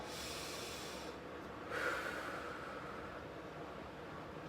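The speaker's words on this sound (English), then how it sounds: "Another nice deep breath." A deep breath taken during a seated stretching exercise, a faint airy inhale swelling for about a second and then trailing off into quiet background hiss.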